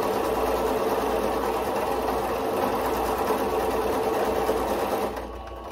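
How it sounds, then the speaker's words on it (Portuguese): A sewing machine stitching fabric for garment sleeves runs as a loud, steady, close mechanical whir with a fast rhythmic chatter, then drops away just before the end. "Vamos seguir costurando."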